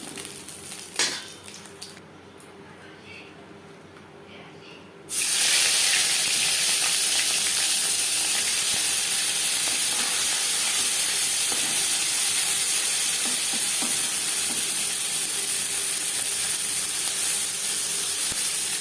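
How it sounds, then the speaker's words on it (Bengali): Small mourola fish frying in a batch in hot oil in a kadai: a few quiet clinks of utensils at first, then a sudden loud, steady hiss and sizzle of oil that continues to the end. "প্রথম ব্যাচের মাছ ভাজা হয়ে যাচ্ছে, একটা পাত্রে উঠিয়ে নেব"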